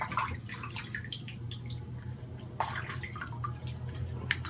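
Close water drips and splashes while a face is wet down for shaving, irregular patters over a steady low background hum.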